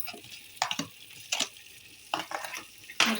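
Green chili paste and garlic masala sizzling in a pan, stirred in distinct bursts of scraping and crackling about every second or so, close and fairly quiet, no voices.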